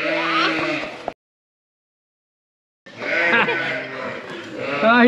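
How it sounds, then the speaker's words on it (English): Sheep bleat loudly and close by while being fed on a farm during lambing season, two bursts of wavering bleats separated by a silent gap, with people's voices mixed in. "Are you feeding the sheep?"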